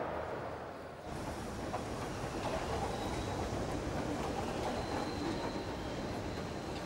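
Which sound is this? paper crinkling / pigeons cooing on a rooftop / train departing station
train departing station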